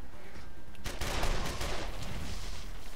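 Loud bursts of rapid video game gunfire, overlapping shots crackling in a dense volley that starts abruptly and keeps going to the end.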